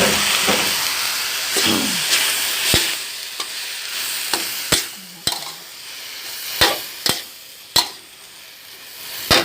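Chinese cabbage and white cabbage stir-frying in a hot pan for a noodle dish: a loud hissing sizzle with a run of sharp clanks and scrapes from the spatula striking the pan, close up, with no talk.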